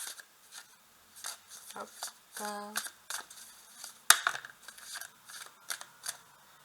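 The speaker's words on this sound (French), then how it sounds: "Je vais prendre les cartes qui tombent." Tarot cards drawn from a deck and dropping onto a table, giving a series of short papery slaps and rustles with brief speech between them.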